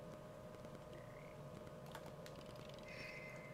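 Frogs croak in Papo & Yo, a few scattered calls over a constant low ambient drone, with faint clicking in the background.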